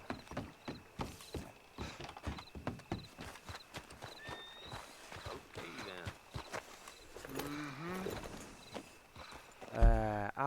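Steady clip-clop of horse hooves from Red Dead Redemption 2, a brisk, even walking rhythm up close, followed by a faint game tone and a louder burst near the end, with no talking.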